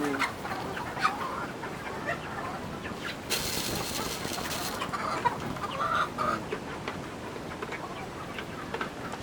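Texas gamefowl chickens clucking in a farm yard, soft scattered clucks and chirps over a steady outdoor background, with a brief louder rustling burst midway.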